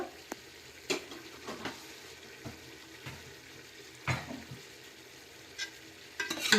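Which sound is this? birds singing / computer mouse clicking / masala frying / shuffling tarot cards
masala frying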